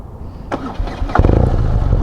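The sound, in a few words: BMW R nineT Urban GS motorcycle engine starting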